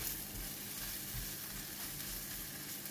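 Fish cakes frying in an oiled pan for a seafood bee hoon dish, giving a steady, even sizzle throughout, fairly quiet and without voices.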